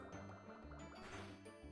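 Bubble move effect from the PokéRogue game, a burst of watery bubbling and gurgling pops, close and dense, playing alone over faint game music.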